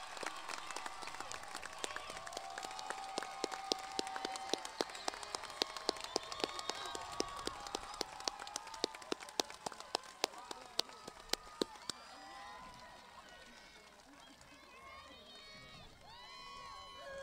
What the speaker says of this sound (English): If we could, please give the clap for.